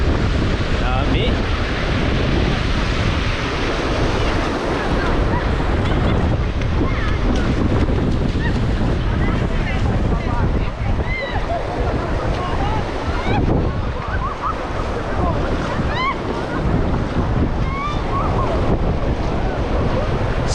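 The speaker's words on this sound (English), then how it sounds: "Maybe is it because of these big waves or what?" Big ocean waves crash and surge continuously on a Durban beach, a loud, dense roar with heavy wind buffeting the microphone and no clear pauses between breakers.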